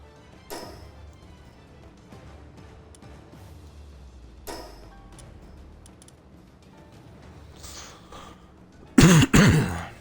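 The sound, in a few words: cough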